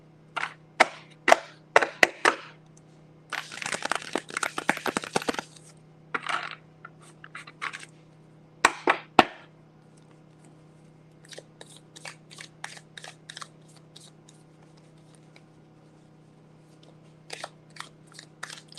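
Crisp papery snaps and flutters of tarot cards being shuffled, a longer riffling burst in the middle, with scattered clicks before and after over a low hum.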